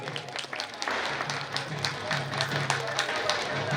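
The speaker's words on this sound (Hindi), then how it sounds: "सभी दर्शक दीर्घा से निवेदन है जोरदार ताली जरूर बजाएंगे" A crowd at a Diwali Suwa dance program in Jawahar Chowk, Bhaismundi, claps hard and continuously, a dense, lively roar of many hands close by, with a voice talking underneath.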